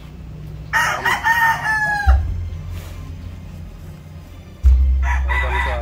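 A Boston Roundhead gamecock rooster crows loudly and close by, one long crow followed by a second one a few seconds later. A low engine or hum runs underneath throughout.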